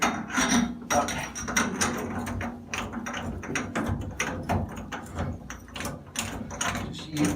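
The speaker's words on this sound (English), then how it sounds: "Just leveraging the socket set to help me screw it in all the way" A socket set ratchets repeatedly while threading a part into a Price Pfister two-handle shower valve, giving a busy run of close, rhythmic clicks and metallic rubbing with no talk.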